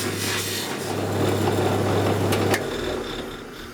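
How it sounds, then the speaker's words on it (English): Guitar fret ends being buffed with polishing compound on a spinning polishing wheel, a steady close abrasive rubbing hiss over a low motor hum that continues for a few seconds, then stops. "To polish the fret ends, I use a bit of polishing compound on this wheel."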